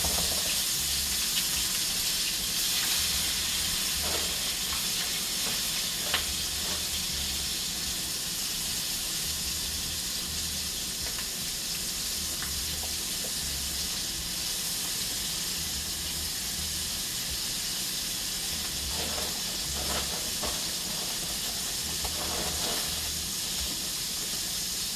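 Hot grease in a skillet frying Korean barbecue wings, a steady, broad hiss of sizzling that continues evenly at moderate volume with faint crackles and no talking.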